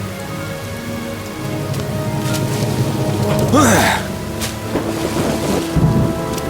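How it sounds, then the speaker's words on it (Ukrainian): Steady rain patters on a surface, with a short voiced exclamation and a swooping tone rising over the downpour midway. "мабуть, ти не помітив, йде дощ"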